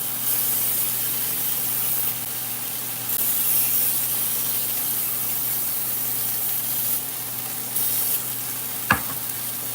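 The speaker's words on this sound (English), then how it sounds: "you want to spray it again with the oil" A steady hissing spray of cooking oil on a pot roast runs almost continuously over a sizzling background, swelling in a few bursts, with a sharp clack near the end.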